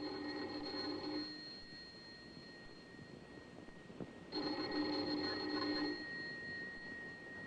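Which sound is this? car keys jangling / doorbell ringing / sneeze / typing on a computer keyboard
doorbell ringing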